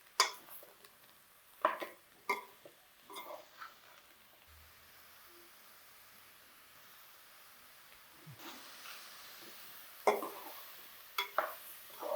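Mushrooms go into a frying pan and are stirred, giving a few sharp scrapes and clatters of a utensil against the pan at the start and end, with a quiet sizzle in between and no talking.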